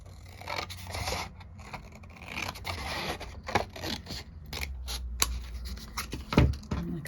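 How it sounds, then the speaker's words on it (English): Scissors cutting a piece off a watercolour lightfast test sheet of granulating paints, a series of close crisp snips and paper scrapes with quiet rustling between cuts. "So let me cut a piece off of this."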